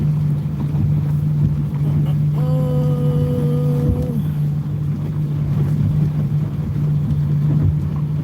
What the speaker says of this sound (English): the engine sounds like it's fuel starved